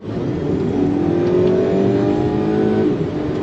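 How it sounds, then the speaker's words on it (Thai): A Volkswagen Tiguan SUV accelerates hard in S mode, its engine note rising steadily and loudly from inside the cabin before easing off at the end. "นี่เราดึงมา โหมด S นะฮะโหมด S นะไปลองดูฮะ"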